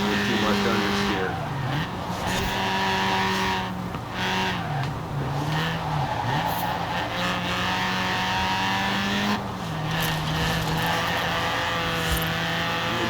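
In Forza Horizon 4, a slightly loose Class C race car on stock OEM tires runs a mountain touge track. Its engine drones and shifts pitch under steady acceleration while someone talks over it throughout.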